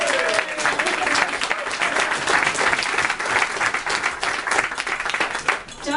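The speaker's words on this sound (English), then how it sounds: "I think he deserves a round of applause for that." Audience at the Toronto Taxpayers Coalition 2013 anniversary party applauding, dense continuous clapping that stays loud for the full stretch.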